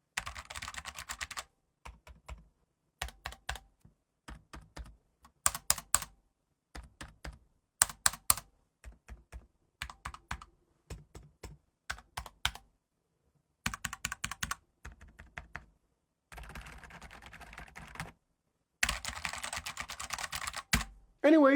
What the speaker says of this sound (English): I'll just type between both keyboards and you can listen in.